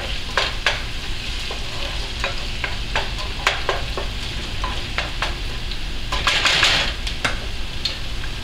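Onion and garlic fry in a pan for an aji de gallina, giving a steady sizzling hiss broken by repeated scraping stirs of a utensil, with a brief louder sizzle burst near the end and no talking.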